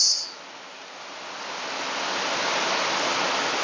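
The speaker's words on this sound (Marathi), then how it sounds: "आज पुण्यामध्ये खूपच जोरदार पाऊस या ठिकाणी चालू आहे" Dense, steady downpour of heavy rain in Pune, a continuous broadband hiss that swells slightly after a brief opening burst and stays loud throughout.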